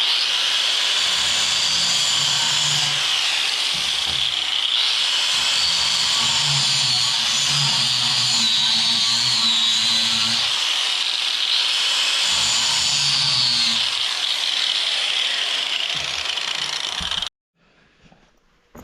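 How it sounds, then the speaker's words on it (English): An angle grinder grinds out cracks in the steel frame of a Kinze 2600 bean planter, a loud, steady, close hiss that runs for about seventeen seconds with a slight pitch dip partway through, then cuts off abruptly. "I'm just going to go right across and grind them"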